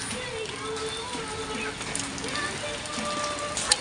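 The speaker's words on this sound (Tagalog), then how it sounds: "At sumabay na rin yung malakas na buhos ng ulan kaya naligo na rin kami." Steady heavy rain hisses continuously on a farm during mango picking, with a voice faintly audible underneath the downpour.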